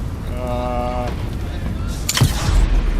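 A gunshot rings out in the space game Star Citizen, a single sharp report late on, preceded by a humming tone and ambient rumble.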